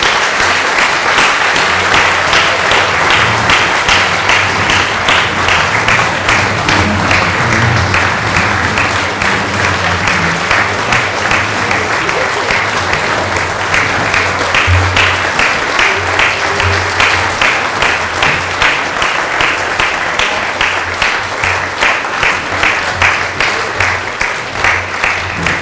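Sustained, loud applause from an audience at a Chamber of Commerce annual meeting award ceremony in the Greater Fort Kent area. The clapping continues steadily for the whole stretch with no talk over it.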